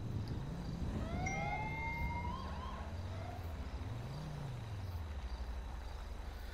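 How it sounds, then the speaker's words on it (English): A wailing video game ambulance siren rises and falls over steady engine rumble, with higher whooping tones sweeping early on; no talking. "Can someone bring the ambulance over here, please?"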